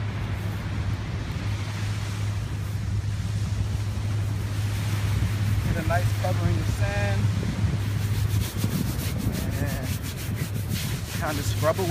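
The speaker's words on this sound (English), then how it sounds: "basically coat your jeans in this fresh sand to kind of like get out all the bacteria" Jeans rub and scrape against fresh sand by the sea in a continuous gritty, scratchy friction with a low steady hum beneath, close by, while a few faint voices come and go in the background.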